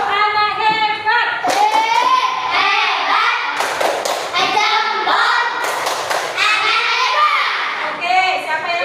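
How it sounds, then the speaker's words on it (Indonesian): A class of children chants 'tepuk anak hebat' in unison, a lively sing-song call with sharp rhythmic hand claps and thumps, close and loud, repeated phrase by phrase. "Berikan dulu tepuk anak hebat."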